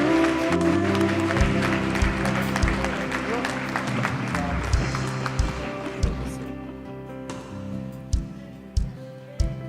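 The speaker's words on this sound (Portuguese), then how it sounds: "Aplaude Jesus por esses homens de Deus" Church congregation applauding during a worship service, clapping over organ or keyboard chords and voices, with scattered sharper claps standing out near the end as the music thins.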